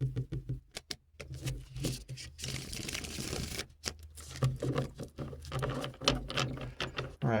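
Tarot cards being shuffled by hand, a series of close, crisp riffling and flicking bursts separated by brief pauses, quiet and with no talking.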